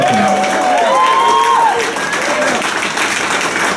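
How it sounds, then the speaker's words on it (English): An audience at a comedy roast breaks into applause, a steady wash of clapping with some crowd noise, while a voice speaks over it. "Clap for it, guys."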